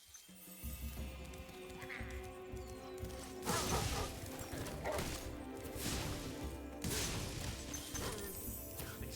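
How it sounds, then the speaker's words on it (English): Barking enemy dogs in a Spyro video game, with several sharp, loud bark-like bursts spaced a few seconds apart over a tonal music bed and clattering game effects. "These dogs are the worst enemies in the game, like, bar none."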